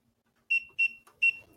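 Three short, loud electronic beeps from a kitchen timer set while a cake bakes in the oven, evenly spaced in a quiet room, with faint background noise after.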